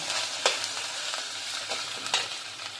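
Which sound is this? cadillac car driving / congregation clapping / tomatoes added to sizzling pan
tomatoes added to sizzling pan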